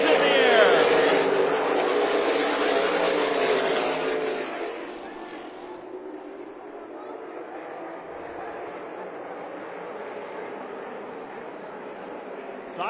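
Race cars roar at the Chilly Willy race at Tucson Speedway as the green flag drops, a loud dense engine wash with a commentator talking over it, fading to a steadier distant drone after a few seconds.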